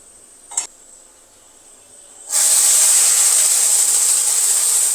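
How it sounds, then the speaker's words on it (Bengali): Dal lentils hit hot oil with fried onions and whole cumin, bursting into a loud, continuous hissing sizzle after a quiet start with one small clink. "এখন এর মধ্যে আমি ডালটা দিয়ে দিব"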